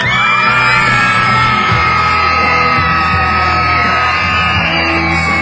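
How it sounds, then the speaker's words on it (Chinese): Schoolchildren on a primary school graduation trip scream and cheer loudly for their teachers at an evening party, a dense continuous roar of young voices yelling and whooping with no pauses. "再选起双手，给所有的师长们热情的尖叫30秒。"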